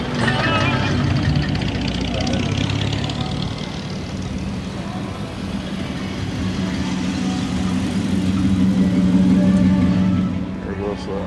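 A late-1970s Lincoln luxury car with a moonroof rolls past at a car-show cruise, its steady engine rumble swelling slightly and fading amid continuous crowd chatter and traffic noise.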